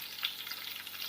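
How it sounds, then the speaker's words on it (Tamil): Mustard seeds and garlic fry in hot oil for a Malabar cucumber kootu, a close, steady sizzle with faint crackling pops, quiet and continuous with no speech. "கொஞ்சமா கடுகு நல்லா பொரியுது."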